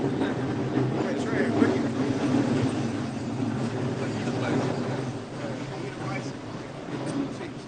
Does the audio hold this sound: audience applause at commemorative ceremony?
no